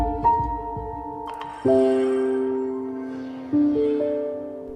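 A soft electronic Steam Deck OLED startup chime plays in a few layered tonal swells, rising and ringing out cleanly against near silence.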